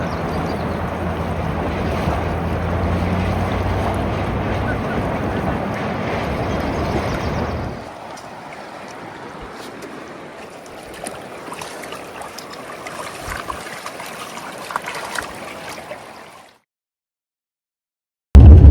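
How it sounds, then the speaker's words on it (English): White water rapids rush steadily in a river on a Wyoming road trip, a loud continuous roar for several seconds that then drops to a quieter, more distant flowing wash before cutting to silence. "The white water there is"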